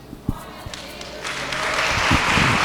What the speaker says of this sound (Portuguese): Vamos aplaudir mais forte, que é para o Senhor